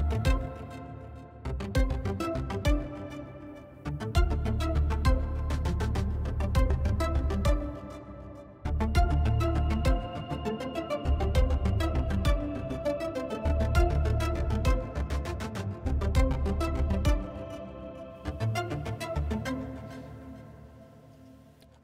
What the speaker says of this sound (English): how to make this type of staccato string pluck kind of sound in Harmless